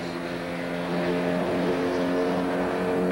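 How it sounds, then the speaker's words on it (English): Porsche 944 race cars roar past on a racing circuit during a 1986 series race, a continuous loud engine drone that swells slightly as the cars accelerate up a straight. "Bill Adam is able to pass Kurt Matthewson going up the Andretti straight away"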